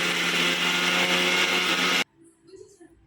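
A kitchen mixer grinder pulverises roasted peanuts into powder for peanut-jaggery laddus, whirring loud and steady for about two seconds before cutting off abruptly, followed by faint handling sounds.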